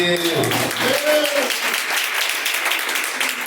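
A church audience breaks into applause for God, clapping rising as a preacher's voice trails off at the start, then continuing as a dense, steady patter.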